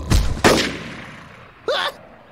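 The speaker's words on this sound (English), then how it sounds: "A gunshot!" Cartoon gunshot effects: two sharp, loud bangs in quick succession, each with a short decaying tail, followed by a brief voiced exclamation.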